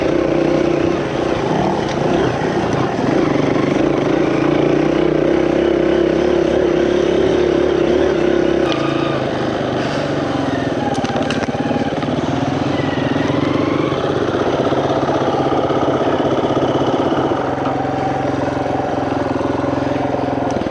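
A dirt bike engine runs on a ride near Vega, Alberta, a steady loud buzzing drone that eases lower in pitch and settles toward idle partway through, with no talking over it.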